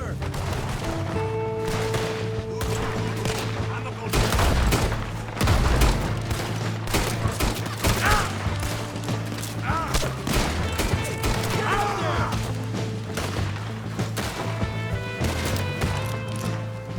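Scattered gunshots in Red Dead Redemption II, irregular single cracks and short volleys at varying distances over a steady low hum, with voices talking throughout.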